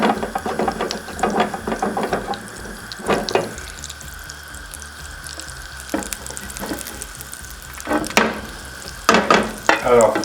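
Butter melting in a hot pan before beef is added, giving a soft sizzle with intermittent clatter and scraping of utensils against the pan, close by in a home kitchen.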